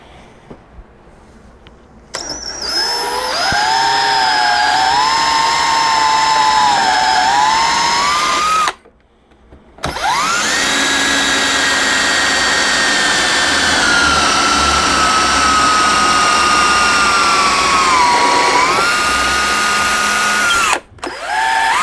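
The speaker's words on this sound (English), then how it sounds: "I'm going to drill the holes through here." A power drill whines loudly up to speed, bores steadily through wood, pauses briefly, then drills again for a long stretch before spinning down.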